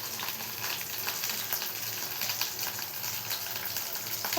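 Curry leaves splutter and sizzle in hot oil for a sorakaya pachadi, a steady, bright crackling with fine irregular pops throughout and no talking.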